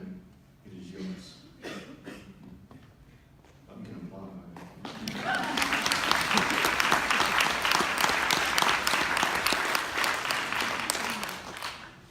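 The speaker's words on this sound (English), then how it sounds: "You can applaud." Audience at a symposium on indigenous education bursts into sustained applause, many hands clapping densely after a few scattered early claps, loud and continuous to the end.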